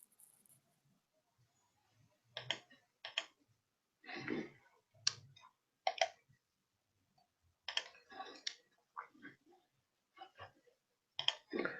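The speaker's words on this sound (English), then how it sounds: "I hear you typing." Keyboard typing during an online Node.js working-group meeting call: irregular bursts of crisp clicking keystrokes, fairly close and moderately loud, with pauses between clusters and no talk over them.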